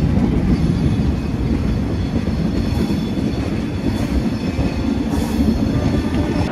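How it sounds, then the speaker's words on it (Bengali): A train pulls out of Visakhapatnam station with a loud, steady rumble of wheels on rails and a faint high squeal running through it, heard close from on board, with no talking. "বিশাখাপত্তনম স্টেশন থেকে আমাদের ট্রেন ছেড়ে দিয়েছে"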